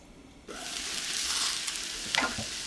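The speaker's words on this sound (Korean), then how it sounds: "뚜껑 덮어 약불로 줄이고 3분 정도 익혀주고" A potato omelette in a small covered pan turned down to low heat. It sizzles and fries steadily after a quiet start, with a brief scraping clatter near the end and no talking.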